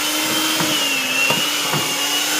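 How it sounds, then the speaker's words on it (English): Electric mixer beating cream cheese, a loud, steady motor whir that runs continuously with a few faint knocks of the beaters against the bowl. "you're going to have an electric mixer, so you're going to use that to beat it all in."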